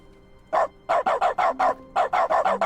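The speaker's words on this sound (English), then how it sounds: "Oh, button is now a dog sound." Repeated dog barks from an in-game button in The Stanley Parable, a quick series of about nine loud, clipped woofs in two bursts, close and with no talk over them.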